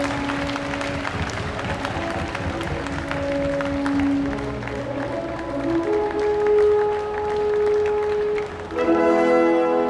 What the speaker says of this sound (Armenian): բարձր ծափահարենք նրանց։